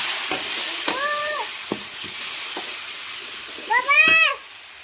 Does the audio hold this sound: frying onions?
yes